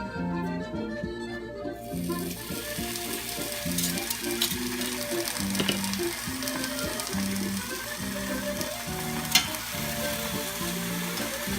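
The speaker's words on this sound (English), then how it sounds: "I'm going to fry the 2 pieces of bacon on medium to high heat" Two pieces of bacon fry in a pan over medium to high heat, giving a loud, steady sizzle that runs unbroken from start to finish, with background music playing underneath.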